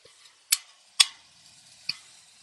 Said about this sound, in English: stir up our vegetables just a little bit. They're getting good and hot.